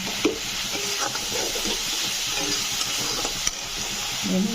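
Potatoes are stirred with chili, cumin and coriander powders in a hot pan, giving a steady frying sizzle and hiss with occasional scraping knocks of the spoon against the pan.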